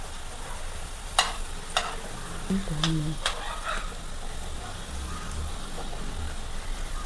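Gulab jamun dropping into hot oil in a pan give a soft, steady sizzle with a few sharp crackles and pops near the start, fairly close and alone.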